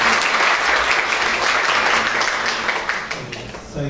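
An audience applauds steadily as the chairman of a hospital group's board is welcomed at a hospital's 25th anniversary ceremony. The dense clapping holds for nearly four seconds and fades slightly at the end.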